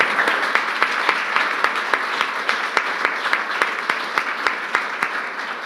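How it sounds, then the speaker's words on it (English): An audience at a medical society mentorship panel applauds the panelists, steady sustained clapping from a room of listeners, moderately loud with no talking over it. "Let's have another big round of applause for our panelists."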